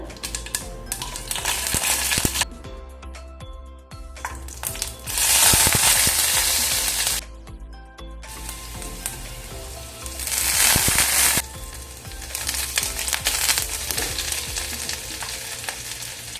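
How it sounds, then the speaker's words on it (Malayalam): Ginger, garlic, curry leaves and green chillies sauté in coconut oil with fenugreek and mustard seeds, loud bursts of sizzling and crackling that surge and drop between quieter stretches of stirring and scraping. "വെളിച്ചെണ്ണയിലേക്ക് ഉലുവയും കടുവും പൊട്ടിച്ചതിന് ശേഷം ഇഞ്ചി, വെളുത്തുള്ളി, കറിവേപ്പില അതുപോലെ തന്നെ പച്ചമുളകും ഇട്ട് ഒന്ന് വഴറ്റി കൊടുക്കുന്നുണ്ട്"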